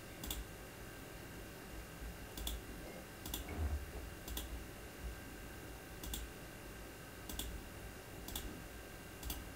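Mouse buttons clicking through a button-driven prescriber program: about eight sharp single clicks spaced irregularly over roughly ten seconds. They are faint and close, over a low steady room hum, with no talking.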